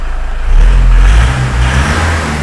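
Iveco Daily recovery truck engine revving up loudly from idle, a close, steady low rumble that swells and holds, with no talking.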